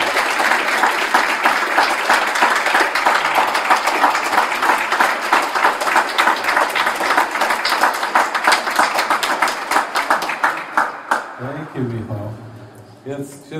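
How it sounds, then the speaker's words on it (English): An audience at a talk session in Cork, Ireland breaks into sustained, dense applause of many hands clapping, which tapers off near the end as a voice begins speaking. "I would like to give them a warm round of applause"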